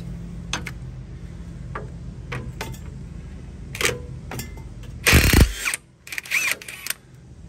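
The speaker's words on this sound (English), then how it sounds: "We've also got to take the steering stabilizer loose, and we're going to put our 18 millimeter wrench on top of that." An 18 mm wrench works loose a steering stabilizer on a Silverado 2500HD front suspension, making scattered sharp metallic ticks and clicks, then a loud clanking burst near the end.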